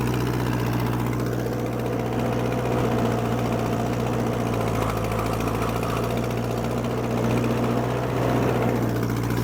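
An Allis-Chalmers D14 tractor runs a brush hog mower through high weeds, its engine droning in a steady, continuous rumble with a constant low hum and a mechanical clatter layered over it, with no pauses throughout.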